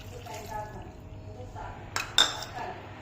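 Vegetable curry with cauliflower is stirred in a pot, giving a short quiet stretch followed by a couple of sharp metallic clinks of a spoon against the pot.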